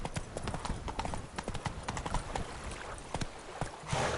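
Hooves of Roach, a horse in a PS4 video game, clip-clop at a rapid galloping rhythm, loud and close throughout with no talk over them.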